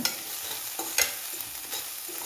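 Bitter gourd thoran is stirred through in a pan, with a soft continuous sizzle beneath a few clear scraping strokes of the spoon, one sharper scrape standing out midway, and no talking.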